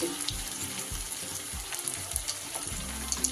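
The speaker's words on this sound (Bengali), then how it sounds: "লাল লাল করে মুচমুচে করে ভেজে তুলে নিয়েছি" Cabbage and soybean pakoras frying in hot oil, a dense, close crackling sizzle with small bubbling pops that carries on steadily throughout without any voices.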